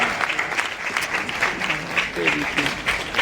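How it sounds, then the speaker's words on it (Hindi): Clapping from a seated crowd fills a hall during a student award ceremony, steady and fairly loud, with a voice talking over the applause. "जोरदार तालियां।"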